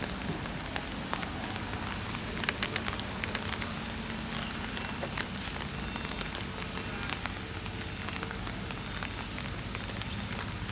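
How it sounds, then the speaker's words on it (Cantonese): Steady rainfall in Tin Shui Wai, Hong Kong, with scattered sharper drips and taps, a constant background hiss and low rumble, no voices. "落雨啊！"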